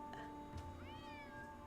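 Cat meowing in a Nancy Drew video game, one drawn-out meow rising and falling over a quiet background hum, clear and close, with no talking.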